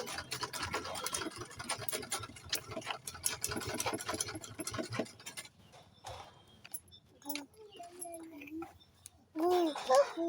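A sewing machine stitches the belt onto a luggage travel bag, giving a fast, quiet run of clattering needle strokes. It stops partway through, and then people talk and handle the bag nearby.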